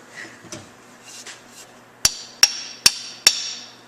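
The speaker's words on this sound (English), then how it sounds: "Tap with your hammer" Four sharp, evenly spaced metallic hammer taps drive a bushing into a snowmobile suspension part, preceded by quieter handling clatter; the strikes ring loud and close.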